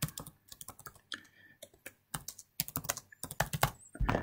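Fingers tap quickly on a computer keyboard in irregular bursts of close, crisp key clicks, with short pauses between runs and no talk.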